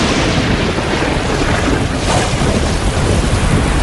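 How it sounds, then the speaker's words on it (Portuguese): A thunderstorm with heavy rain gives a dense, loud, continuous roar of downpour with rumbling low thunder underneath, steady throughout and without talk. "Em qualquer mundo onde se espera ter vida, um pouco de chuva deve cair."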